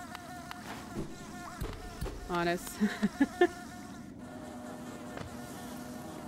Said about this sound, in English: Those guys sound like mosquitoes, and that kind of buzzing sounds like a fly.